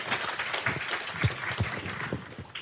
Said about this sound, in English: Let's give Sara a round of applause